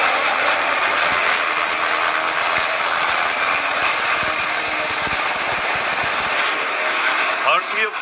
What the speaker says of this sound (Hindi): सारंग हेलीकॉप्टर और सूर्य किरण ने पहली बार एक साथ आसमान में दम दिखाए।